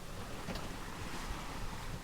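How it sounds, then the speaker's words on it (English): Water splashing and rushing against the hull of a sailing boat under sail with the motor off, a continuous close wash with wind noise across the microphone. "Water splashes only."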